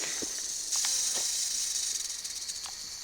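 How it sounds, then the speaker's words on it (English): Timber rattlesnake rattling among rocky ground scattered with sheds, a steady dense buzzing hiss held throughout, close and fairly loud, with no voices. "This rattlesnake's rattling all over here."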